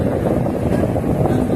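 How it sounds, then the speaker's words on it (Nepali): An air cooler fan runs in a room, giving a constant low rumbling whoosh heard close and loud throughout, steady with no breaks and no voices over it. "यहाँ कुलर चलिरहेको छ"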